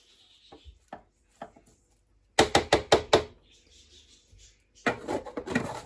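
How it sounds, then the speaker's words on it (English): Seasoning for a Jamaican pot roast pork leg is scraped down inside a container, heard as a few faint taps, then a quick series of loud close wooden knocks and scraping rubs, then more scraping. "Just going to scrape that down in here."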